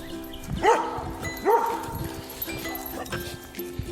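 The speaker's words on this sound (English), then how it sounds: "The barking." A dog gives two yelping barks, then a few softer yips, heard at a moderate distance over faint outdoor ambience.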